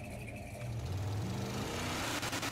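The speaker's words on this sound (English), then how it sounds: "You guys hear that built engine over here" A built Camaro engine in GTA 5 idles and revs with a steady low rumble, the pitch rising and shifting as the throttle is blipped, heard alone and fairly quiet.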